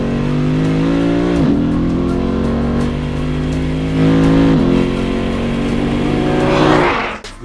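A Lexus RC F's naturally aspirated 5-liter V8 roars loud and close, holding a sustained growl that dips between gear changes before climbing again and then cutting off at the end.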